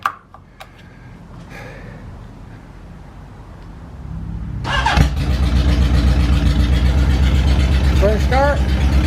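A 1977 Honda Hondamatic barn-find motorcycle engine cranks over and fires, then settles into a loud, steady idle, with a voice talking briefly over it.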